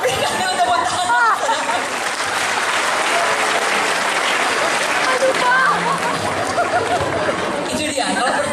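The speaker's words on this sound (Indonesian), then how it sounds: "Berikan dia tepuk tangan." A congregation at a Christmas revival service in Yogyakarta applauds, long continuous clapping mixed with crowd chatter and laughter, loud and close, with voices talking over it.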